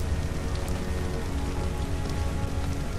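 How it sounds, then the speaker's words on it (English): Steady rain pours down in ARK, a dense, even hiss of drops on surfaces at constant loudness, with no voices. "Worm God has praised this sacrifice with some nice rain outside."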